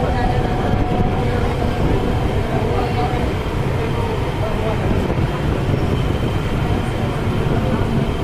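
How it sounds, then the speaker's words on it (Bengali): A train departs Nerul station in Navi Mumbai, its loud, steady rail rumble and clatter filling the whole stretch, with voices faintly mixed into the noise. "ट्रेन बाय बाय, ट्रेन जाओ।"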